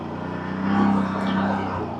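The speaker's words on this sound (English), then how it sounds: "I don't know if you guys can hear the bike working or not, but she's working pretty good." A CFMOTO ATV quad bike engine runs steadily nearby, a low droning hum that swells briefly as it works through soupy ground.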